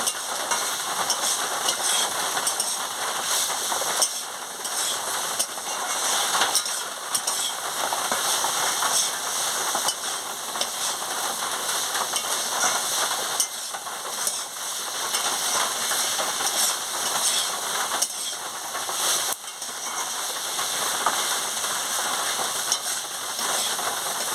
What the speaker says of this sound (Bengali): ভালো করে আনাজটাকে কষিয়ে নিচ্ছি মশলা দিয়ে কষিয়ে নিচ্ছি